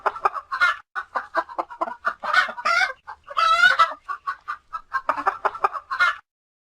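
A chicken clucking in a rapid run of short calls, with a few louder, drawn-out squawks mixed in, heard close and alone before it stops.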